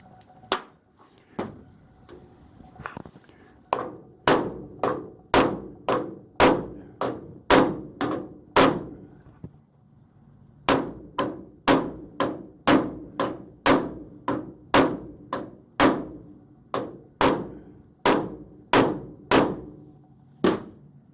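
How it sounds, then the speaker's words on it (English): Steady hammer blows knocking metal patches into a 1929 Chrysler door jamb, sharp ringing strikes in a fast regular rhythm, a brief pause, then another long run of hits, close and loud. "I just knock these in with a hammer"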